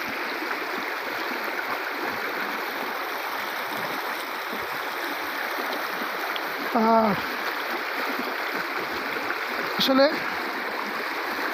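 A mountain stream runs down among large rocks, water trickling and gurgling around the base of each stone in a steady, close wash, with a short spoken word and a couple of brief knocks partway through.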